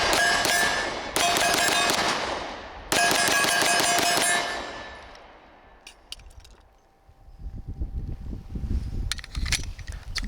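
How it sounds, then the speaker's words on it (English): Rapid string of loud, sharp shots from a Walther PPQ Q5 Match SF steel-frame pistol, fired in quick bursts with brief gaps, then a clatter and lower rumbling handling noise as the shooting stops. "it's very nice to see a steel frame pistol running reliably"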